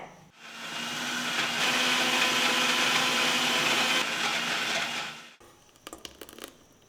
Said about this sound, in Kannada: ಈಗ ರುಬ್ಕೊಂಡ್ಬಿಡೋಣ, ನೀರೇನು ಹಾಕ್ತಲೆ.